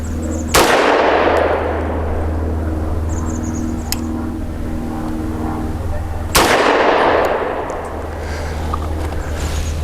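Two sharp, loud pistol shots from a Vz CZ 52 firing 70-year-old ammunition, about six seconds apart, each ringing out with a decaying echo over a steady low background hum.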